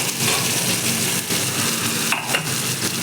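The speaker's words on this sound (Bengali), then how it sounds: "পেঁয়াজটা হালকা করে ভেজে নিয়েছি, এবার এর মধ্যেই মশলাটা দিয়ে দেবো।" Onions sizzling in hot oil in a pan as spices are tipped in, with a steady crackling fry broken by a couple of brief scraping stirs near the end, close and loud, with no talk.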